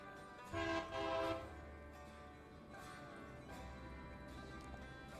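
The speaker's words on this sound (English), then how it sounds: "most of the noise is currently being drowned out by 4 GP38s" Four GP38 diesel locomotives on a White Pass & Yukon Route train in the Railroader video game, a steady engine drone with a brief, loud horn-like blast near the start, heard faintly.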